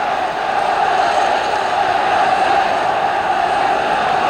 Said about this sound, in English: Well, there's good noise coming up from this crowd.